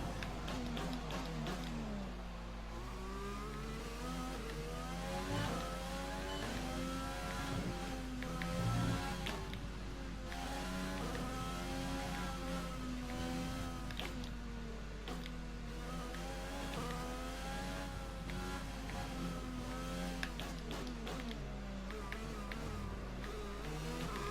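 F1 race car engine from the F1 2020 video game, a sustained high-pitched whine that rises and falls as it revs through short upshifts toward fourth gear, loud and continuous over a steady low hum.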